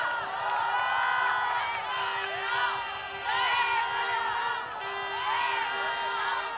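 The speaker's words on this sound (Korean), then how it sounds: "뜨거운 박수로 맞이해 주십시오" A crowd at an outdoor hunger-strike rally cheers and shouts in welcome, many voices whooping and calling together in loud overlapping waves, with scattered clapping.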